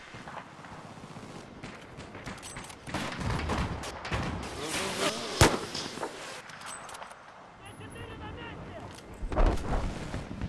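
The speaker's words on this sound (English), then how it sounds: "See if I can shoot down this tree." Video game gunfire aimed at a tree, heard as scattered loud shots and booms over a rumbling battlefield background, with one sharp crack standing out.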